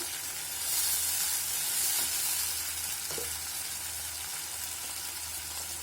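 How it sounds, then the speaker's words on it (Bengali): Ginger and garlic paste frying in hot oil for a Bengali chicken roast, a steady loud sizzle with a brief surge of hissing near the start and light stirring underneath, no voices. "এখানে আমি দিয়ে দিব আদা বাটা, রসুন বাটা"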